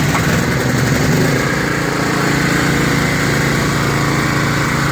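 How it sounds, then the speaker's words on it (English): A Honda EG3500X portable generator runs right after a cold start, its small engine holding a steady, loud, close chugging drone with no speech over it. "let's do another cold start on this Honda EG3500X"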